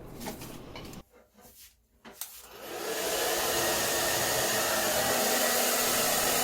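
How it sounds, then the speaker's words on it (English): Handheld blow dryer switching on and running over dry hair, a few seconds of handling noise and rustling, then a loud steady whooshing roar that holds to the end. "To fix my hair, I always start out with using the blow dryer."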